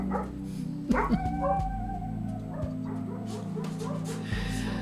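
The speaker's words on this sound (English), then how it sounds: "pause for barking." A dog barks and yips a few times close by, with whining tones woven in and a steady low hum underneath.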